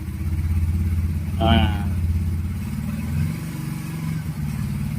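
A motorcycle engine hums steadily while riding, with a brief throttle rev standing out near the middle, close and fairly loud, and someone talking briefly over it.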